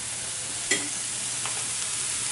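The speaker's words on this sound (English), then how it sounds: "Listen to that sizzle." Seasoned potatoes sizzle in a skillet still coated from caramelized onions, a steady broadband frying hiss with a brief sharp stir or scrape near the start.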